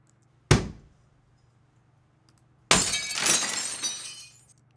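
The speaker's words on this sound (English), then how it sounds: "Let's see some more glass smash." Glass smashing from a sound effects library: a single sharp impact, then after a pause a louder burst of shattering glass with tinkling shards and a natural reverberant tail.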